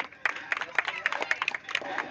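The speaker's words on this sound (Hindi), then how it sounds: "एक बार ताली हो जाए हमारे।" A few hands clap in quick, uneven bursts during the prize ceremony of the Mumbra Unity Cup 2022 tennis-ball cricket tournament, giving a light, scattered patter that lasts about two seconds.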